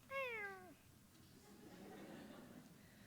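A single short meow, close and fairly clear, falls off in pitch and is followed by quiet background murmur; presented as a cat named Buttermilk meowing softly in a read-aloud story.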